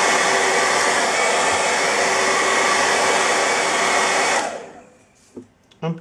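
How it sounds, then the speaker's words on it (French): A hair dryer dries paint, including cobalt colour, on a comic book character drawing, blowing a loud, steady close-up whoosh for about four seconds before switching off, followed by a few faint handling taps. "de nouveau petit coup de sèche-cheveux."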